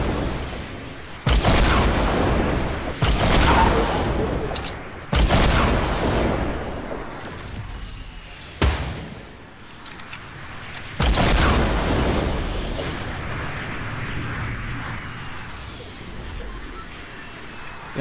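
Rockets exploding in a video game: several loud, booming blasts arrive one after another in quick succession, each followed by a rumbling decay, with no talk over them.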